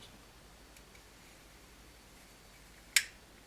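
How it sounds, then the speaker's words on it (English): A single sharp click sounds as threaded resin parts of a Kalimar Six Sixty are rotated and the threads line up, close and distinct against quiet background hiss. "rotate it the opposite way the threads screw together until you get a clicking."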